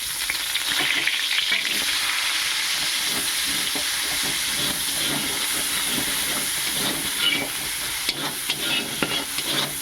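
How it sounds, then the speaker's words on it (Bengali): Onion paste fries in hot oil with a dense, continuous hiss and sizzle. Faint stirring crackles run through it at a constant, fairly loud level, with no voices. "পেঁয়াজটা ভাজতে থাকবো, যতক্ষণ লাল নাই হচ্ছে আমি ভাজতে থাকবো"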